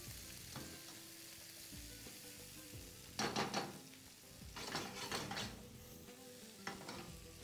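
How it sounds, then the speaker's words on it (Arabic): Vegetables stir-fry in a pan on a home stove, a steady sizzle broken by a few bursts of louder crackling and scraping as they are stirred and turned. "حطيت بقيه الخضار بتاعي واقلب"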